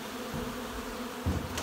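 Dense steady buzzing of many honey bees around hive boxes at the end of the honey flow, a close continuous drone with a brief louder pass near the end.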